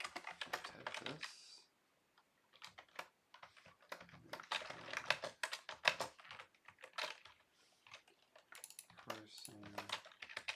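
Brisk typing on a computer keyboard while writing Rust code, with bursts of close clicks separated by short pauses and a person talking intermittently between them.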